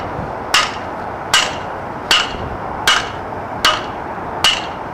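An Oz-Post ground anchor is pounded into the soil with six evenly spaced, sharp metallic impacts, each ringing briefly before the next blow, loud and close over faint outdoor background.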